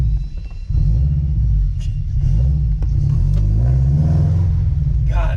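A Subaru BRZ engine held at steady revs while the clutch is slipped, giving a loud, continuous low rumble from inside the car that rises slightly toward the end, with a brief sharper noise at the close.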